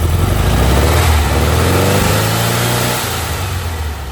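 A Porsche 356 sits idling, its old engine giving a steady, loud, close hum with a constant low drone that eases slightly toward the end, with no talk.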